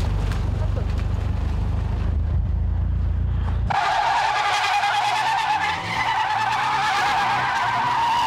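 Cars drifting on a crowded mountain pass in Kyushu during a group drift run, with loud tire squeal and skidding over engine roar that shifts into a sharper, higher screech partway through.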